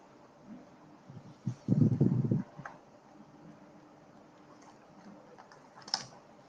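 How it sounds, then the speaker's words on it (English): Soft keyboard typing comes in a short burst of quick clacks, with scattered quieter clicks around it in an otherwise quiet room. "somebody is typing."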